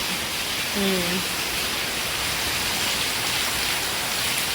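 Heavy rain pours down steadily outdoors in a dense, even hiss that holds for the whole stretch, with a brief faint tonal sound early on and no clear talking.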